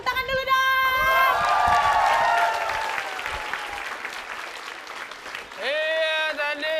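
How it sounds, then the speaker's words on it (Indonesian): A studio audience at a comedy game show bursts into applause with cheers and whoops, the clapping swelling then easing while voices talk over it and rise again near the end. "Tepuk tangan dulu dong"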